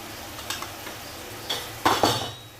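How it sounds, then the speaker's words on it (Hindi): Spices such as turmeric, coriander and red chilli powder being stirred and roasted in a pan for a Rajasthani guar bean dish, with scattered scraping and metal clinks of the spoon and a faint background hiss. "अब मसाले को अच्छे से भून लेते हैं"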